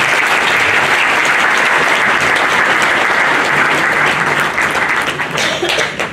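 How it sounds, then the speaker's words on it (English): A large conference audience applauds a minister's speech at a plenary session in Victoria Falls, Zimbabwe, a dense, loud, continuous wash of many hands clapping that holds steady and tapers slightly near the end. "Another hand of applause to the Minister for his inspiring speech"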